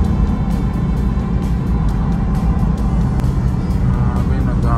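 Dense rush-hour road traffic in Metro Manila heard from inside a vehicle, a steady low rumble of engines and tyres with occasional passing vehicles, with speech murmuring faintly underneath.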